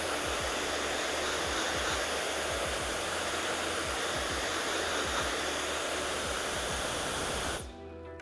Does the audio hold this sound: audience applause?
no